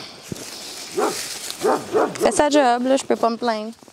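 The neighbours' guard dog barks outdoors, several single barks spaced about a second apart, then a quicker burst of yips and whines, moderately close, while someone speaks over it.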